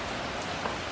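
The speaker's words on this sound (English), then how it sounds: "It's raining outside." Rain falling outside, a dense, even hiss of drops on surfaces that holds steady for the whole moment with no other sounds.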